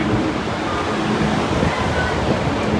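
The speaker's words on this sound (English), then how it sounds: "Very windy in here." Strong wind blasting through the Pirates Cove walk-through attraction at Waldameer Park in Erie, PA, a loud, steady roar of rushing air and microphone buffeting filling the whole stretch without a break.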